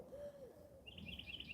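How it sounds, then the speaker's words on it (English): A faint hoot owl call sounds once in a quiet outdoor setting by the Suwannee River, followed by a thin, high repeated chirping from another bird. "I don't know if y'all can hear that hoot owl there."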